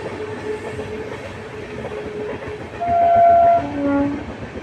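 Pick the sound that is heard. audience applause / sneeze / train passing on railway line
train passing on railway line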